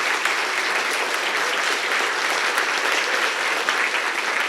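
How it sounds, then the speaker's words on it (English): A crowd at a Bowling Green bicentennial ceremony gives sustained, loud applause in honor of a first lieutenant, a dense even roar of clapping throughout. "Can we give him a round of applause as well?"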